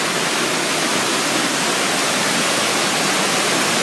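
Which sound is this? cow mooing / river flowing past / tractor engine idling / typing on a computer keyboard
river flowing past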